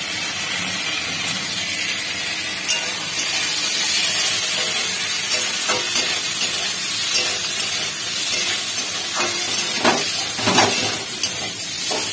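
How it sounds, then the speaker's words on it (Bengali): Ginger paste fries in a hot pan with a steady, close sizzling hiss, punctuated by occasional stirring scrapes and spatters, with no talk. "তো আদাটা ভালো করে ফ্রাই হলেই তবেই মশলাটা দেব।"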